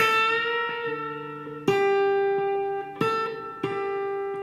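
A single guitar plays sustained notes, one of them bent upward, with fresh picks roughly every second or so; no voices.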